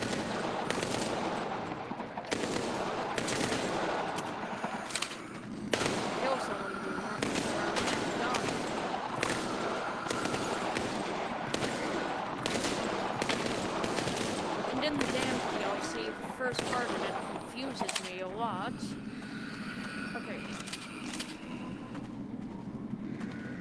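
Gunfire rattles through the Arizona Sunshine VR zombie game, with rapid repeated shots across a busy, dense stretch of sound and a voice talking over part of it.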